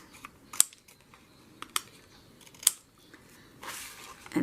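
Scissors snip paper strips meant for weaving, a few sharp, separate cuts spaced apart and close by, ending in a longer rustle of handled paper.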